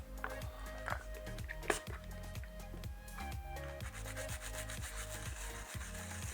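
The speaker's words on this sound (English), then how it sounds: "So giving a good scrub, making sure that all the residue has been lifted off." A brush scrubs residue off a Matra Alice 90 computer circuit board during restoration, a steady close rubbing and scratching in repeated back-and-forth strokes, with a low background hum underneath.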